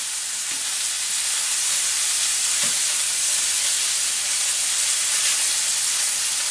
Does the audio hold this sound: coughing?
no